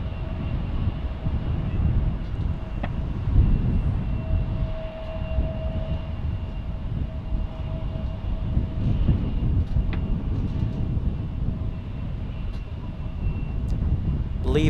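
A Boeing Dreamliner airliner arriving at DFW International Airport near sunrise, a steady broadband engine roar holding at a fairly constant level throughout, with faint voices and light background noise underneath.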